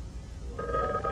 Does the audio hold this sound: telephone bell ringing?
yes